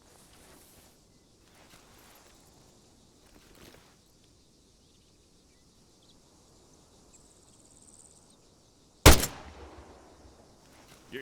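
A single sharp gunshot rings out during shooting practice in the military game Arma, loud and abrupt, over a faint bed of insect and cricket ambience with a brief tail after the crack.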